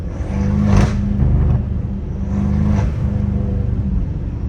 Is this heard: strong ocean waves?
no